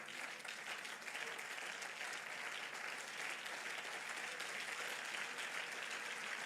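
A church congregation applauding to acclaim God, sustained dense clapping from many hands, steady and fairly distant throughout.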